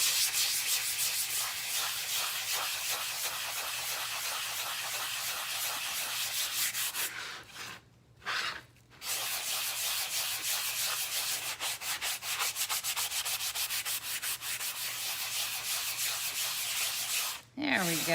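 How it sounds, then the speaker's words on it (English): A painted craft piece is hand sanded smooth with a continuous, close, raspy rubbing that pauses briefly twice before resuming. "Just sand a little of him, smooth him out so the lines go away."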